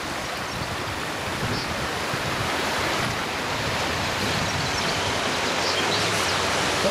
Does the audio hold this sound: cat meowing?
no